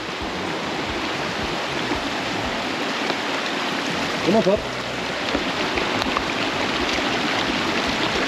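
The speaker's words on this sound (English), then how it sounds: "we've got this river that we now need to cross" A river flowing over rocks in Dominica gives a steady, close rushing wash throughout, with a brief voice calling a dog partway through.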